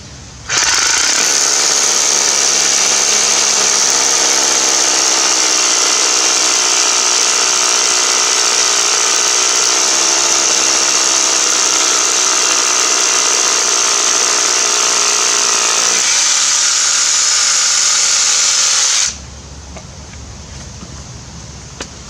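A cordless rotary hammer, either a Milwaukee or a Ryobi, drills steadily with a loud, close, rattling hammering that holds for nearly twenty seconds before cutting off, leaving a faint residual hum.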